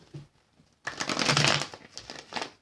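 Soft papery riffling and crinkling of tarot cards being shuffled close by, a quiet tap first, then a burst of shuffling and a few short flicks.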